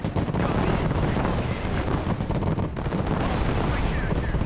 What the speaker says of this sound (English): Heavy weapons team is under fire!